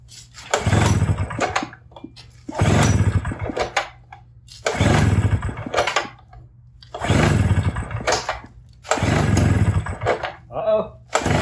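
A Tailgator engine is pulled repeatedly in attempts to fire it up, giving five loud bursts of rough sputtering and cranking at regular intervals, close by, with brief pauses between each try.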